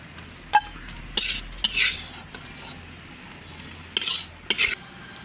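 Hilsa fish jhurjhuri is stirred and fried in a pan, with a spoon scraping the pan in several short bursts over a faint, steady sizzle and a few sharp metal clinks, close by and with no voices.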